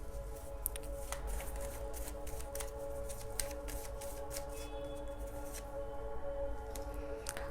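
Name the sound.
shuffling tarot cards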